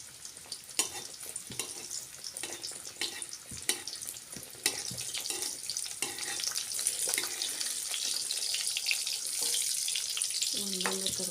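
Pieces of dough fry in hot oil, a continuous bubbling sizzle that grows denser and louder over time, with occasional clinks and handling noises nearby and no speech.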